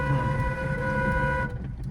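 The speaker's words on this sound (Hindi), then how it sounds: "हाँ लॉन्ग हॉर्न" A long, steady car horn blares loudly for about a second and a half, then cuts off, leaving low engine rumble.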